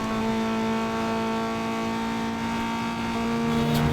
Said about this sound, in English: Your engine sounds reflect off of that and bounce back to you.